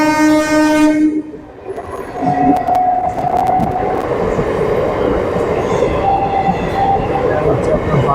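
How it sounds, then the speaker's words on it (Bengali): A train horn sounds near a road between Barasat and Madhyamgram, then a loud, close train rolls past with a steady rumbling clatter that fills the rest of the moment. "ট্রেন আসছে।"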